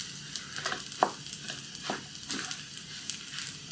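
Cheese being stirred into hot fried pasta with ham (Schinkennudeln) in a pan, a continuous sizzle broken by repeated scraping and clacking of a utensil against the pan.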